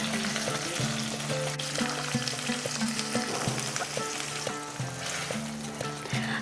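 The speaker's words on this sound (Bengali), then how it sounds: "এরপরে একটা মশলাই বাকি আছে, সেটা হলো পোস্ত, কিশমিশ আর কাঁচা লঙ্কার পেস্টটা দিয়ে দিচ্ছি।" Poppy seed, raisin and green chilli paste sizzles in hot oily masala for a vegetarian pointed gourd (potol) curry, a steady close frying hiss with stirring running throughout under background music.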